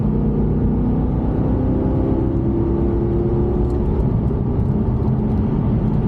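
A Maserati fitted with a WindBooster throttle controller, driving in automatic, gives a loud, continuous engine roar with a deep rumble. The sound is steady throughout, heard from inside the car, with no talking.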